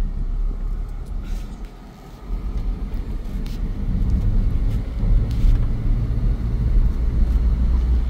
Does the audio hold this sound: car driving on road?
yes